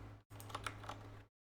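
Rapid keystrokes on a computer keyboard, a quiet close-up burst of clicks lasting about a second before it cuts to silence.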